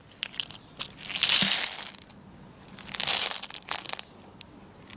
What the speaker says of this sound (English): might as well make it long by putting some bullets in my gun